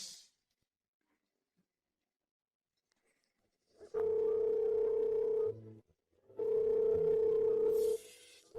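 Telephone dial tone heard while a number is being called, a steady loud tone sounding twice for about a second and a half each with a short gap, after several seconds of silence.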